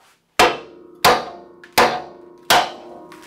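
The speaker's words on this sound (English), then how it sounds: "Take your big ass hammer." Four loud metallic hammer blows on a Toyota ball joint ring out at a steady pace, each one sharp with a brief ringing decay, close by.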